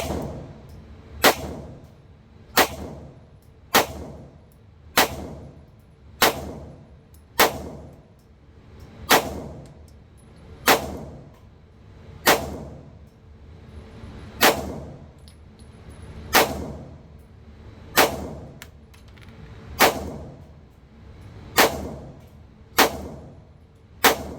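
Shots from a Sig Sauer P365 X Macro pistol, about eighteen sharp reports evenly spaced roughly every second and a bit, each with a short ringing tail, loud and alone.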